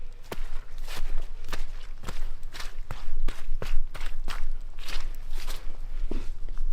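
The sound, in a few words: footsteps walking on crunchy debris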